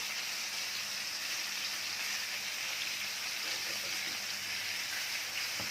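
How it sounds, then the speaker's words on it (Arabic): Meat sautéing in a hot pan gives a steady, loud hissing sizzle with fine crackle that runs without pause. "احنا هنشوح اللحمه بس"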